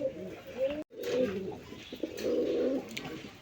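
Racer pigeons at a pigeon farm coo softly in repeated low calls close by, with a brief break partway through and faint talk in the background.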